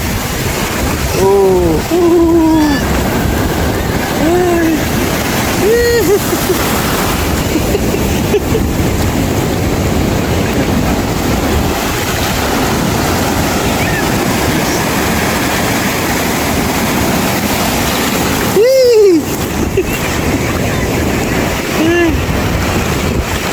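Ocean waves breaking at high tide on Sabang Beach in Baler, Aurora, a loud, constant roar of surf, with people's voices rising briefly over the wash.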